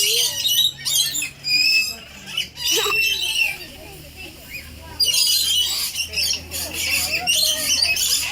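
Birds squawk and chirp loudly and repeatedly while being hand-fed at a wildlife park with kangaroos, the shrill calls coming close by and nearly continuous, with people talking underneath.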